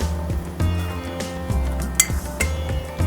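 A metal spoon scoops ghee into a heavy-bottomed pan, ringing with a series of sharp, close metallic clinks and taps at irregular intervals, one brighter knock standing out near the middle, with no voices.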